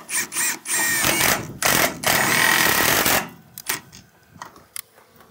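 A power driver whirs in short bursts and long runs, sending galvanized screws through a wooden cupola roof section in a farm shop, loud and close, then tapering into lighter intermittent buzzing.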